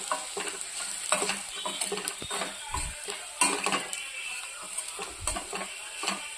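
A spoon stirs garlic chilli powder into bitter gourd curry in a pan, with repeated scraping and clinks against the metal over a soft sizzle.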